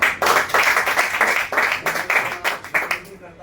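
Loud rhythmic clapping from an audience at a network marketing training event for Safe Shop direct selling, coming in steady bursts of many hands with voices mixed in.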